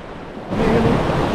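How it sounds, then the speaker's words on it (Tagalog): Loud surf and strong wind on the sea at Lubo, Batangas: a broad, roaring wash that swells up after a half second and stays full and close, buffeting the microphone. "Maingay ang dagat. Malakas ang hangin."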